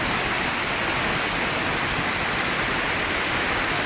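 A waterfall with two drops roars as a dense, even broadband rush, loud and close, with no other sound standing out over its constant wash.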